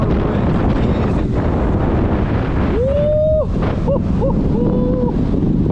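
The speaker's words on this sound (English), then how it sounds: "This is 30 miles an hour wind." Strong 30 mph wind roars at a fishing inlet on Sebastian Inlet, buffeting the microphone in a loud, unbroken rush, with a few thin whistling squeals rising midway.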